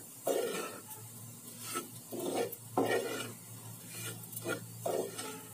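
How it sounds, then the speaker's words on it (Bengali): Lentil dumplings (bori) frying until brown in a pan, heard as a rhythm of repeated scraping stirs, each a short rough burst over a faint background sizzle, close by. "একটু বাদামি বাদামি করে ভেজে নিতে হবে"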